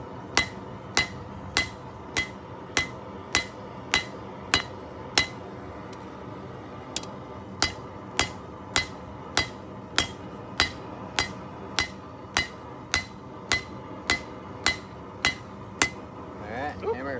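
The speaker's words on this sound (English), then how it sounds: "Alright, hammer it flat. Hammer, hammer." A hammer striking hot metal during forging, sharp ringing blows at a steady, even rhythm of about one per second, loud and close, with a short pause partway through.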